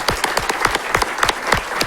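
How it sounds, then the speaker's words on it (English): Brief applause from a conference audience, a close cluster of distinct sharp hand claps in a quick, fairly regular rhythm, with no talking over it. "in a usual round of applause for us all,"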